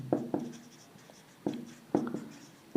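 Chalk or marker writing on a classroom board during a physics lesson, heard as a handful of short, distinct taps and strokes in an uneven rhythm, close and fairly clear.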